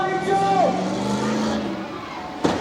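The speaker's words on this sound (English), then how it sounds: "These guys love to bring these trucks out and run them hard." Tough trucks roar around a big dirt test track at a Brookville, Pennsylvania event, a loud, sustained engine drone with shifting pitch, and a voice talking over it.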